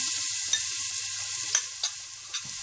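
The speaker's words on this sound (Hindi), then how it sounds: "चिकन फ्राई करने के बाद आप 1/4 कप तेल गरम कर लें। और इसमें आप 2 टेबलस्पून कुटा हुआ लहसुन डाल दें" Crushed garlic fries in a quarter cup of hot oil after chicken has been fried, giving a continuous soft sizzle with a few faint spatters and light utensil taps, heard alone.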